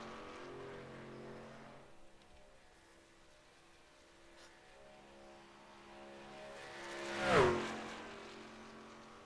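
A race car in Talladega qualifying approaches from afar, its engine tone rising to a brief loud pass before fading, over a low steady background rumble.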